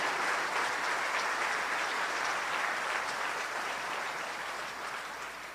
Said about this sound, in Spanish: Denle un aplauso fuerte al Señor Jesucristo.